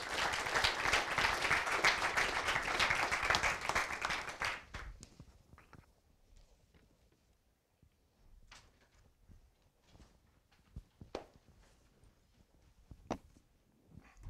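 A lecture-hall audience at UNC Kenan-Flagler claps warmly to welcome two speakers, a dense round of applause for about four seconds, then scattered thumps, footsteps and small movement noises as it settles.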